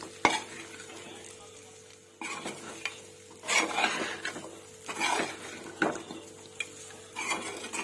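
A spatula stirs dry chicken fry with kasuri methi in a pan, scraping and clinking against the metal in uneven bursts over a faint sizzle, close up with no talk.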